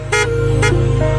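A car horn beeps twice in quick succession, two short, bright, buzzy honks close by, over a steady low hum of an idling engine.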